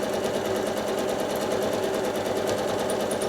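A sewing machine stippling a quilt hums at a fast, even stitching rhythm, close and steady for the whole stretch with no talk.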